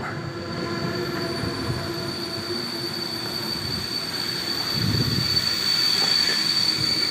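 A train pulls into a station before a return trip to Prague, with a continuous rumble of rolling wagons, a high steady wheel squeal and a swelling roar near the end as it arrives close by.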